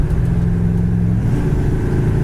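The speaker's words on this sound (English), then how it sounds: "Kick down works on the transmission, shifts right down to second, up to 65, 70, goes up to third" A 1974 Dodge Charger accelerates from inside the cabin, its automatic transmission shifting partway through as the steady engine drone changes pitch; loud and continuous, no voices.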